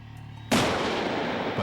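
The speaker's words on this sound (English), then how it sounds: "Two explosions of similar size and spectacle." Stage pyrotechnic explosion at a rock concert: one sudden, loud blast that fills the sound and holds as a dense roaring rush for over a second, cutting through low background hum.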